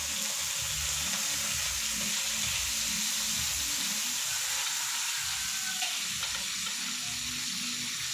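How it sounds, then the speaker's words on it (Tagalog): Chicken sizzling in a hot pan for a Filipino chicken tinola with papaya: a loud, steady crackling fry that stays even and close for several seconds, with no talk. "Now, I'm just gonna put the chicken."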